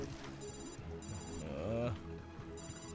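A telephone rings in repeated electronic bursts, three rings separated by short gaps, under a voice talking in between.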